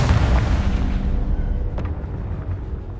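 A deep booming explosion from the Confringo spell in Hogwarts Legacy, loud and rumbling at the start and then fading into a low, drawn-out roar with faint debris crackle.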